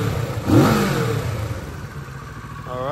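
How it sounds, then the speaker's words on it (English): A 2021 Kawasaki Z650 motorcycle with stock exhaust revs up sharply once, then settles into a rumbling idle with a throaty mid-pitched exhaust, close by and fairly loud. "let's get a little stock exhaust sound."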